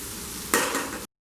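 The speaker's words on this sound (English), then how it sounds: "let it cook and saute it, stirring it occasionally for another 2 minutes" Beetroot rice sautéing in a pan over a low gas flame, with a steady soft sizzle that brightens briefly as it is stirred, close and alone before cutting off.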